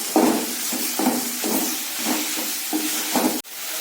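Tomatoes sauté in a hot pan for kara chutney, a close, continuous hiss and sizzle pulsing with stirring strokes and then cut off abruptly near the end.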